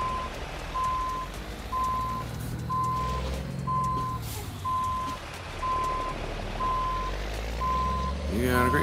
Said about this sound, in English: so we're just in the truck. So let's back out and just go for a quick spin.